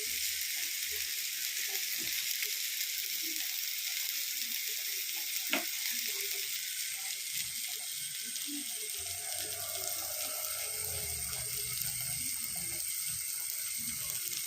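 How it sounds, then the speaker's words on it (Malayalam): Kilimeen (threadfin bream) fries in a pan, Kerala backwater style, with a constant close hiss of oil. There is one sharp click partway through and a low rumble toward the end. "ഓരമീൻ വറുത്തത് അല്ല കിളിമീൻ വറുത്തത്"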